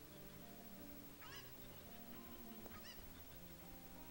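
Chickens in Hyrule Castle Town in a Zelda game give a few faint, distant, honking bird calls against a steady, quiet background.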